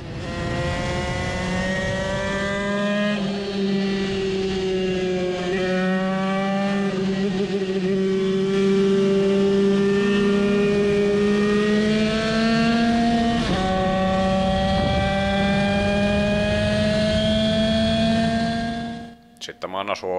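A 20 hp moped engine screams at full throttle down a race track straight, its steady high-pitched drone holding loud and close for about nineteen seconds, with a slight pitch dip midway before cutting off at the end.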